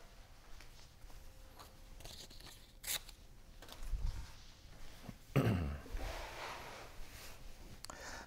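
Scrap paper being handled during papercraft card assembly: soft rustling and crinkling with a louder tearing, crumpling burst midway, close to the microphone, with no speech.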